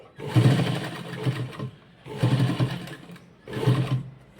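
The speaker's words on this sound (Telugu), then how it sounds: "నేను ఒక త్రీ ఫోర్ ఇంచెస్ గ్యాప్ అనేది విడిచిపెట్టి ఇక్కడ నుంచి స్టిచ్ చేస్తున్నాను" An electric sewing machine stitching a small child's skirt runs in three sustained whirring bursts with short pauses between them, close and steady, with no talking.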